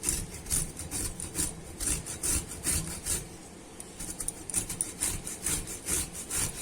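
Raw green mango is grated by hand for chutney, giving a steady run of close, rhythmic rasping strokes, each a short scratchy rub repeated at an even pace with no talk.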